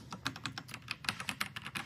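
Quick, light keystrokes on a Keychron C3 Pro mechanical keyboard with red linear switches, a soft, even run of muted clacks close by in a quiet room.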